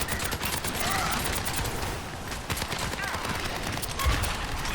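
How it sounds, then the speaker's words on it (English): Rapid gunfire from Soldier:76's heavy pulse rifle in the Overwatch 2 video game, dense and continuous across the clip, with a busy mix of other match effects and a voice talking over it. "It's good that you're shooting, but try not to shoot every tank if you can avoid it."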